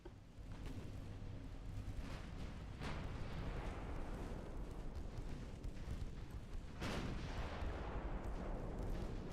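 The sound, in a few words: naval gunfire from battleships in Ultimate Admiral Dreadnoughts video game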